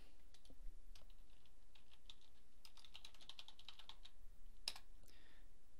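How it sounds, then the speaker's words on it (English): Quick, light keystrokes on a computer keyboard while a string is typed into an EBPro HMI software field, a steady run of soft clicks with one sharper tap near the end, heard alone against a faint background hiss. "Now we can type in a string here."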